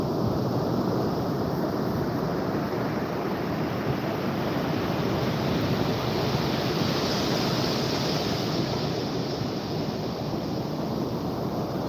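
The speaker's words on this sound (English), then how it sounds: "Those waves are pretty big over there" Ocean waves break on Topsail Beach in a broad, steady roar of surf, mixed with wind rushing over the microphone, loud and continuous with no voices.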